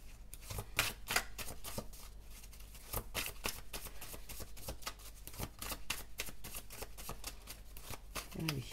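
A deck of tarot or oracle cards is shuffled by hand in quick, riffling bursts of flicking and snapping at close range, while someone talks intermittently over it.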